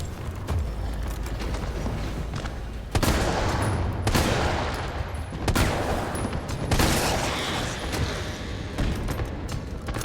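Gunfire in Resident Evil 3 Remake: a dense, steady run of game shots with heavy bursts at roughly 3, 4, 5.5 and 6.7 seconds, loud and close over a constant rumbling backdrop, no talk.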